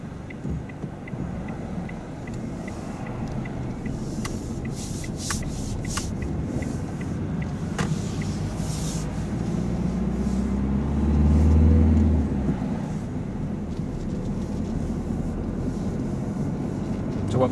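A car pulls away slowly during a driving lesson, its engine a low steady drone that swells gently midway, with faint ticking and occasional cabin noises.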